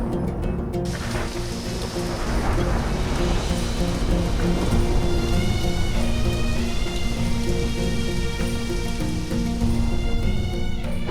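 Heavy rain pours down in a dense, steady roar, loud and continuous throughout with no voices.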